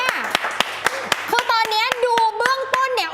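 About a dozen sharp, evenly spaced hand claps sound close and loud at a steady rhythm, with a voice speaking over them in the second half.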